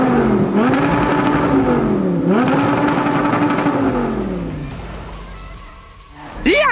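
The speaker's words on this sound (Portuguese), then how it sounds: "Tô ansioso aqui pra ver esse escape. Caranga tá aqui montado. Vamos dar uma ligada aqui pra nós ver isso aqui como é que ficou." An Audi R8 engine with a newly fitted exhaust revs loudly and steadily near the microphone, its pitch rising and falling through two long sustained revs before settling toward idle, then a sharp rev burst at the end.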